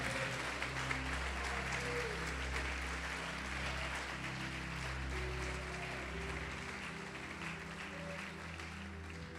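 A church congregation applauds steadily throughout, a dense even wash of clapping at moderate level with a low hum underneath and no talk over it.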